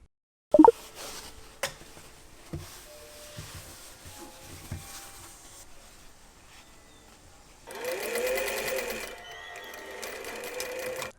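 A sewing machine stitches a ballerina wrap skirt in a short, steady whirring burst near the end, after a stretch of quieter handling clicks and rustles.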